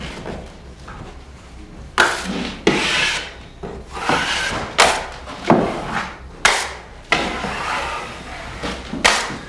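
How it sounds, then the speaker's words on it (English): Drywall tape being rolled and pressed into wet joint compound along a seam, with repeated close scraping and rubbing strokes in bursts, some sharp knocks between them, and no talking. "I roll it down, run it down each edge, cleaning off the excess joint compound, and pushing the tape into the compound."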